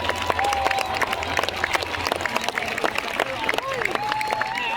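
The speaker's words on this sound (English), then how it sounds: "let's give them another round of applause, please" Outdoor crowd applause in Federation Square, Melbourne, at a bagpipe world record gathering, brisk scattered clapping with crowd voices and whistle-like tones mixed in.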